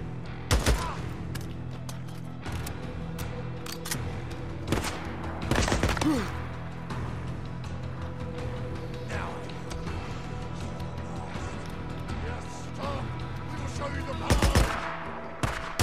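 Repeated gunshots from the post-apocalyptic game Days Gone, sharp loud bursts spaced irregularly across the stretch, with quieter game ambience and someone speaking between them.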